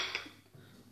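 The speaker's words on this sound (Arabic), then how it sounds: "غادي ناخذ واحد الاناء" A bowl is picked up and set down on a kitchen counter, giving a single soft clink followed by a faint scrape, heard close and alone.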